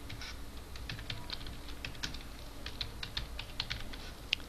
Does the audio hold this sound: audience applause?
no